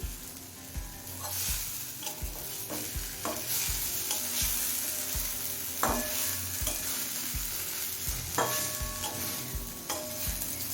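Eggplant fries in a pan on a medium flame, a steady sizzle and crackle punctuated by regular scraping taps of a spatula turning the pieces, with no voices.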